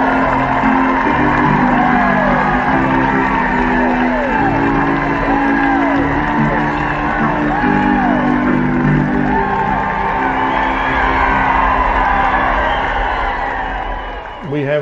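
A horse-show crowd cheers, whoops and applauds a World Grand Champion horse, a loud, continuous roar that holds steady throughout with a voice carrying over it.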